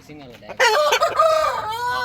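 A rooster crows loudly and close by, one full drawn-out call with no talking.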